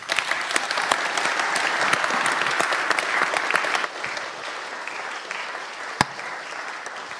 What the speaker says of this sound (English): Give them a clap.